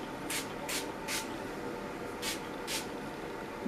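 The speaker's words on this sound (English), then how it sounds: "let's see how it sprays" OGX hairspray spritzed from an aerosol can in five short, crisp hissing bursts: three quick ones, a pause, then two more, close to the mic.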